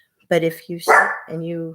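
A pet dog barks a few sharp yips close by indoors in a home, the barks interleaved with someone speaking over them.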